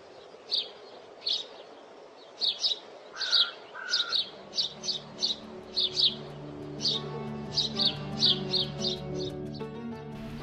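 Birds sing at quiet dawn around the Mahabodhi Temple complex, a pilgrimage site: bright, repeated chirps and short trills come in quick clusters, moderately near, and a soft steady background hum rises in the later part.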